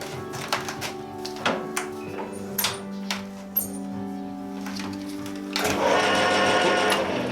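A machine tool working on a lamp part: scattered clicks and a low mechanical hum, then a sudden steady, loud cutting whir that continues to the end.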